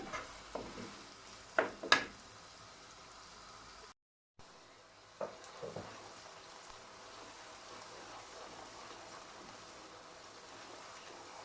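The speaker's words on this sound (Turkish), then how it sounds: "şöyle ben bunu kavuruyum" Ingredients for stuffed dolma sautéing in a pan, a faint sizzle with a few stirring scrapes early on, then a brief dropout before the quiet frying continues alone.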